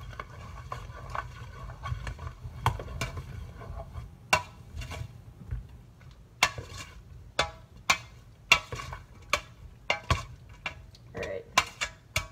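Tortellini and quartered pepperoni being stirred together in a bowl, with repeated soft clinks and scrapes of a utensil against the dish spaced irregularly over a low steady background hum, close and moderately quiet.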